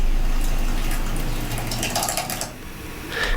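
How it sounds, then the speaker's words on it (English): Wet concrete dripping and pouring in an AI-generated scene, a steady watery trickle with rapid patter and splashes, loud at first, then easing before a brief burst near the end. "you could hear the concrete dripping"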